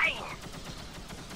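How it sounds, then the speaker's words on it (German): A spaceship cannon fires at an enemy shield in the space game X³: Reunion. Rapid, evenly spaced shots form a quiet, regular burst of impacts after a brief sharper onset. "Aber wir schaffen es hier mit der Kanone langsam aber sicher,"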